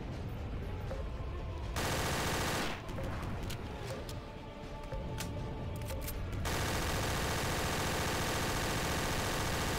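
Dense, continuous gunfire in Counter-Strike: Source Zombie Escape on the temple raider map, loud and steady with a brief lull midway and no clear talk.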